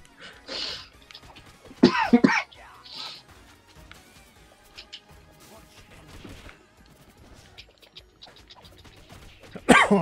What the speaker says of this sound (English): that cough better not be fucking coming back